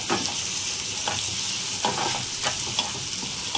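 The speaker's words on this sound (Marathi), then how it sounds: "टोमॅटो कांद्यामध्ये छान असा 2 मिनिटं परतून घ्यायचा आहे।" Chopped tomato and onion fry in a pan for a Maharashtrian prawn masala, giving a steady, close sizzle with faint stirring scrapes now and then.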